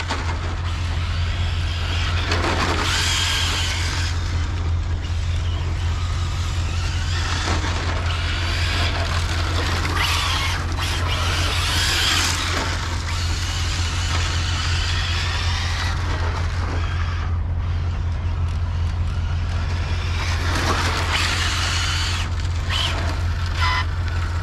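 An Arrma Infraction V2 RC car runs at half throttle, giving a continuous, loud, rushing motor whine with surging tire and drivetrain noise that never lets up, heard alone without talk.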